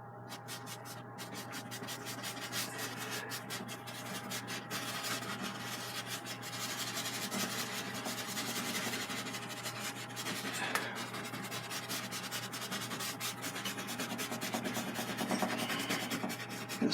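A stiff brush scrubs titanium white oil paint onto canvas with a continuous close scratchy rubbing, long strokes running back and forth without pause.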